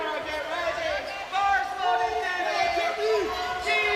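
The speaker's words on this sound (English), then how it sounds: "Demi getting all the support and the hype from the crowd" Spectators at the British Open powerlifting meet roar and cheer for a lifter, with loud crowd noise and shouts swelling partway through, mixed with harmonic voices and a commentator talking over it.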